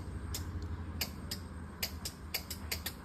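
A motorcycle's electric self-starter clicks without the starter motor turning, giving about a dozen sharp, irregular ticks over a quiet low hum, close by and with no talking.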